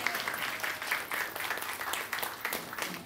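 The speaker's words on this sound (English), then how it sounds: "You can clap." A church congregation claps together during a sermon gathering, a steady wash of many hands at moderate volume with no one speaking.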